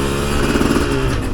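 A Chinese dirt bike engine with a 6-speed gearbox putting along in third gear, a steady, close, buzzing single-cylinder drone at low revs with no talk.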